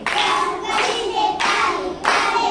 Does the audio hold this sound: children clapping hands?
yes